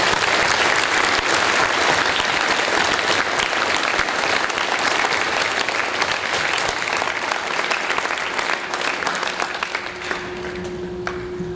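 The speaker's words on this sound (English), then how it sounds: "One last round of applause for Colonel Sicker" An audience at a school Veterans Day assembly applauds a retiring colonel, a loud, dense round of clapping that holds steady, then thins and fades toward the end as a low tone enters.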